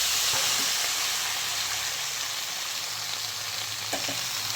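Vegetables for a spinach (palong shak) curry sizzle steadily in hot oil with five-spice seasoning, a loud continuous frying hiss with a few faint stirring knocks and no voices.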